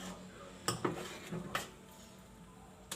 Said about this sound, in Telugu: బాగా మిక్సింగ్ చేసుకోవాలి, కలుపుతూ ఉండాలి.